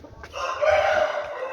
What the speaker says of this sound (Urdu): یہ مرغا پھر بھی اس کی طرف آ رہا ہے.